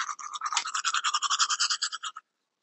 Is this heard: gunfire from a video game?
no